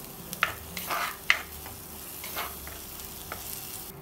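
Curry leaves sautéing in oil in a pan on a gas stove, with a steady soft sizzle broken by a few sharp scraping stirs of a spoon against the pan.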